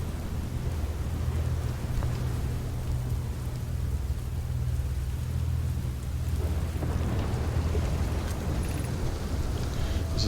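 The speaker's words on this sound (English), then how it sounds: "Raining like crazy, brother." Heavy rain and rolling thunder from the game Outer Wilds: a dense, constant downpour hiss over a deep rumble, filling the whole stretch with no talking.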